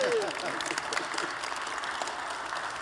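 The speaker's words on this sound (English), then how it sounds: "Applause, please." Audience applause at a symphony orchestra concert conversation, a steady, fairly loud patter of many hands clapping throughout, with a short voice at the very start.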